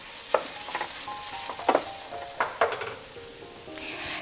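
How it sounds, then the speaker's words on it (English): Lubia Polo ingredients cooking in a pan with tomato paste in oil, stirred now and then with a utensil that scrapes and taps over a constant sizzle, close and clear with no talking. "So give it a stir every once in a while."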